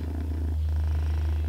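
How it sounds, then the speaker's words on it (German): A sleeping cat purrs close by, a loud, steady low rumble that continues without a break throughout. "Wenn du nicht tobst, dann schläft er und schnurrt."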